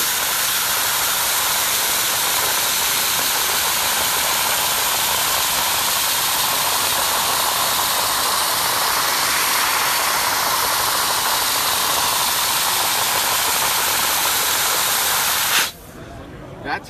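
A dry ice blasting machine cleans composite tooling with a loud, steady, close hiss of blasting that holds unbroken before cutting off abruptly near the end.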